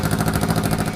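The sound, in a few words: 80s Honda motorcycle engine running with uneven exhaust rumble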